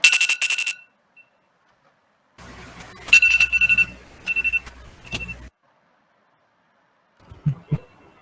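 An electronic alarm rings in short repeated bursts, pausing between rounds, followed by a few faint thumps near the end.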